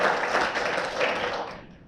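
Audience applause at a Rotary Johns Creek celebration, a brief burst of continuous crowd clapping that fades toward the end.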